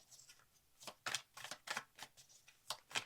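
Tarot cards shuffled by hand for a four-card reading, a series of quiet close riffles in a steady rhythm, about eight bursts with brief gaps.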